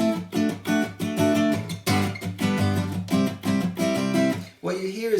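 An acoustic guitar riff, starting on the A, is played in quick, bright strummed and picked bursts with short pauses, close and fairly loud.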